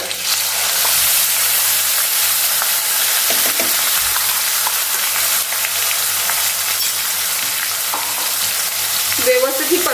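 A spinach chutney paste hits hot oil tempered with red chilli pieces, curry leaves and asafoetida, sizzling loudly and steadily while a spoon stirs it around the pan, with no talking.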